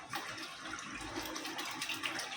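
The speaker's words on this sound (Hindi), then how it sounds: "ये देखो 1 कप डाले और बाकी का पानी डालेंगे" Water poured into a pot of half a kilo of rice for a fish thali meal, a steady close splashing pour running without a break and with no talk.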